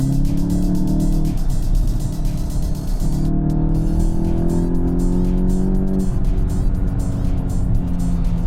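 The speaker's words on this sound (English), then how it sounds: "That is how the car sounds like when you accelerate." A 261 BHP Volkswagen Golf GTI hot hatch accelerates hard on a test track, its engine note climbing steadily in pitch through the gears with brief dips at each shift, loud and continuous from inside the car.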